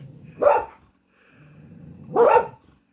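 Two loud dog barks about two seconds apart, close by, as dogs bark at birds through windows, with a quiet gap and faint low rumble between them.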